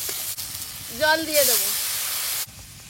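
Ground cumin and spices with chopped tomato, salt and turmeric sizzling in a pan as they are stirred; a short tonal, voice-like sound rises over the frying, then a loud broad hiss holds for about a second before dropping away.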